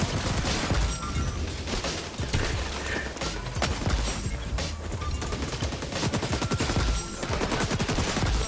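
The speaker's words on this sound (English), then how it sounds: "I'm shooting his body." Gunfire from a shooter video game rattles out in rapid, dense bursts, almost continuous and loud, with short gaps between volleys.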